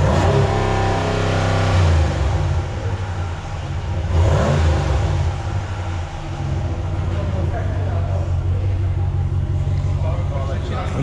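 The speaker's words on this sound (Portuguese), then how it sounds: "Vai lá, Nicola, vê se acalma. Acelera lá. Acelera." A car engine revs hard on command, sustained and loud with rising and falling throttle, while people talk nearby.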